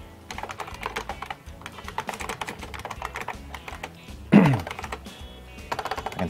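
Keys clatter in a fast, uneven stream of typing on a nearby keyboard, with one louder thump partway through and no talking.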